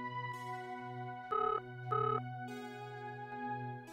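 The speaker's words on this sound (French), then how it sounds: "Est-ce que tu n'entends pas le téléphone, Kaveri?" Telephone ringing in a home, a repeated electronic bell-like ring in short bursts, moderately loud with no talk over it.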